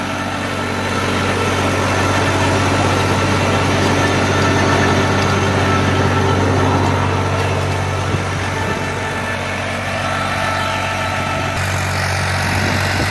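New Holland 3630 tractor, a 50 HP machine with 16-inch rear tyres, runs steadily while tilling soil, its engine a continuous loud drone with a low hum throughout and no talk.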